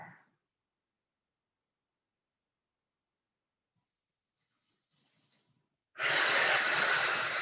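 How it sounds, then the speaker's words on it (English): Deep breathing during a yoga stretch session: a long stretch of near silence, a brief soft breath at the start, then a loud, close, rushing exhale near the end. "Take a few breaths here."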